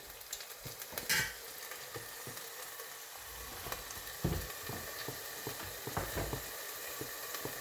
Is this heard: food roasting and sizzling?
yes